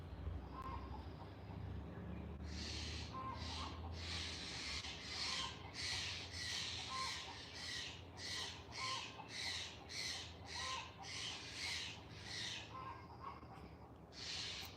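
Harsh, repeated squawking calls from several Steller's jays chasing a cat come in rapid bursts, fairly distant and faint over a quiet outdoor background.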